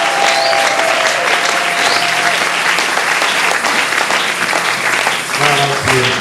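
A church congregation applauds and cheers loudly and steadily for the full stretch, a dense continuous wash of clapping with voices mixed in and some sung or shouted tones near the end.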